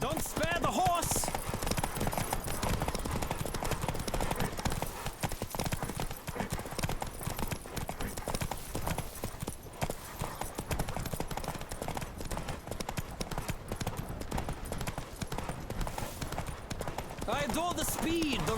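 Galloping horse hoofbeats in The Witcher 3 video game: a rapid, steady clip-clop rhythm runs close and loud throughout, with game voices shouting over it.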